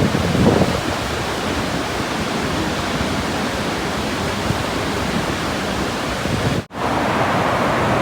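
Waterfall in the mountains of Yosemite or Sequoia National Park, a steady broadband roar of falling water with a wind-like wash, constant and fairly loud throughout, briefly cut out near the end.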